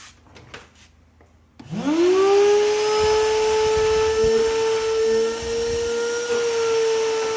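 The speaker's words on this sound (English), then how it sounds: "right now is a really, really good time to grab a shop vac." A shop vac switches on after a brief quiet stretch and runs as a steady, loud whining drone while cleaning a 2006 Dodge Ram truck seat during a cushion replacement.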